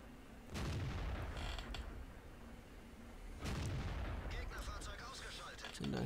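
Leopard 1 tank cannon firing in a video game, two heavy booming shots a few seconds apart, each with a rolling rumble and mechanical clatter afterward, loud and close.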